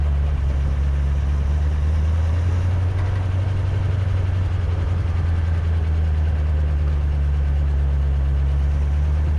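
A 1932 Ford Roadster on its first road drive since 1954, engine not yet fully warmed up, gives a steady, loud low-pitched rumble and drone throughout, heard alone without talk.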